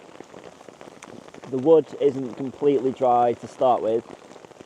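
Steady rain patters on a tarp over a woodland camp, a soft continuous hiss running beneath someone talking close by.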